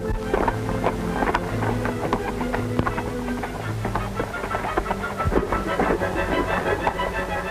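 A railroad engine running in a 1930s Western setting, a steady rumbling chug with hissing and clattering wheel beats, moderately loud and continuous with no talk over it.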